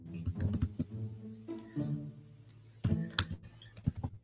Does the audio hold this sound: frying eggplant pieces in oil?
no